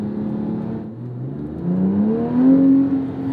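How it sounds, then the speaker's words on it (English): A 2007 Porsche 911 GT3 (997.1) with an 8,400 rpm redline, its engine and exhaust climbing in a close, loud rev, the tone dipping briefly and then rising in pitch and volume toward a howling peak. "God, I love that exhaust."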